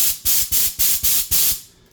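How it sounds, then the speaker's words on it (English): A Kobalt 2-gallon air compressor on a workbench releases five sharp, loud blasts of blown air in quick, evenly spaced succession, each a short hiss that ends abruptly, with no voices. "whenever I need to spray something off on the workbench or clean electronics, turn the pressure down a little bit right there"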